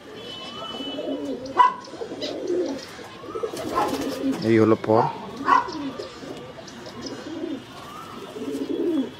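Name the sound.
pigeons cooing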